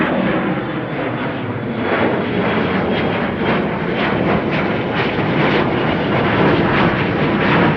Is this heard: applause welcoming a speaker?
no